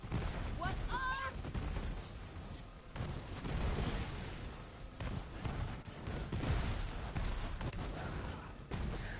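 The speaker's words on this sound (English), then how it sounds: "All I see is explosions." Borderlands 3 combat with bursts of gunfire and heavy explosions hitting one after another, a busy, loud in-game mix with occasional higher tonal effects and speech mixed in.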